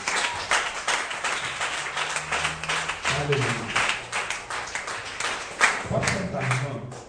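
A church congregation claps and applauds steadily throughout, loud and sustained, while a voice speaks over the clapping.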